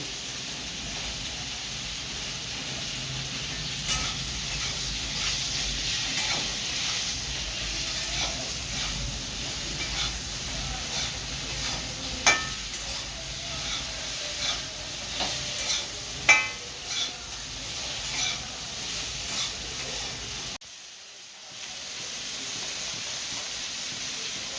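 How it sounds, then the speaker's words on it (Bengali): Cauliflower florets frying in oil in a home kitchen, with a steady sizzle and hiss throughout, occasional stirring clinks and scrapes, and a brief drop in sound near the end before the frying resumes. "ফুলকপি ভাজা হয়ে গেছে"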